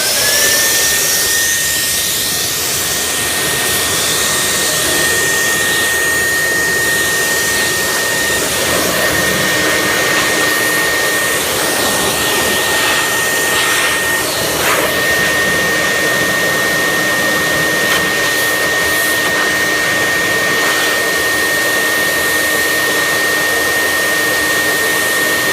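An antimicrobial fogger spraying disinfectant in a water-damaged home, producing a loud, constant blowing roar with a steady high whine that continues unbroken throughout.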